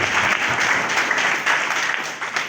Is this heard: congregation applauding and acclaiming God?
yes